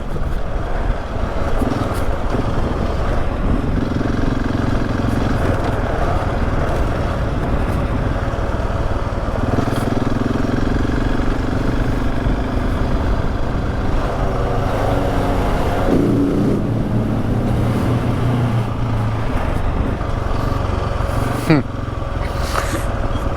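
A motorcycle rides along a stretch of interstate highway in New Mexico, with a steady engine drone and heavy wind rush that continue at close range for the whole stretch.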